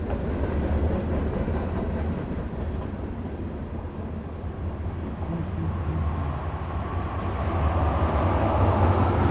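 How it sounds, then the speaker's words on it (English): A Conrail train rolls past on the rails, a steady, loud broadband rumble with low-end roar that holds throughout and swells slightly toward the end, with no talk over it. "Put a Conrail train in instead."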